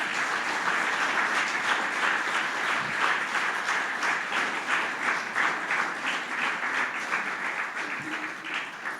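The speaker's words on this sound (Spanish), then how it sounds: "Dale un aplauso al Señor." Steady applause from a church congregation, dense and sustained throughout, rising to a lively rhythmic patter without any voices on top.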